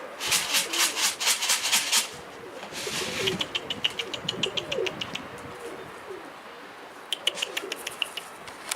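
Pigeon in a garden, heard up close with soft repeated coos, rustling and scraping sounds as it shuffles about, and a few sharp clicking taps in quick runs; no voices.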